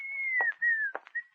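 A man whistles a wavering, slightly descending tune in an old-time radio drama, close and clear, broken by two short breathy gaps before the melody resumes.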